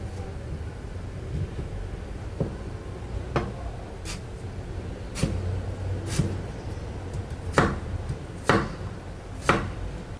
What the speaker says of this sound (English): Cut the ginger in half lengthwise,